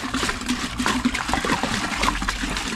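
Water splashing and gurgling as it pours into a hollow sump pump basin, a continuous close churning flow.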